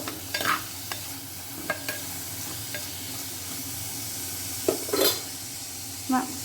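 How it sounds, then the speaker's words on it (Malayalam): Ivy gourd sautéing in a pan for fish curry gives a steady low sizzle, with a few sharp clinks and scrapes of a utensil stirring against the metal at scattered moments. "കോവയ്ക്ക കുറച്ച് വഴറ്റിയെടുത്തിട്ടുണ്ട്"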